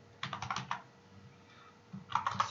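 Someone types code on a computer keyboard in two quick clusters of clicky keystrokes, close and fairly quiet, with a pause between them.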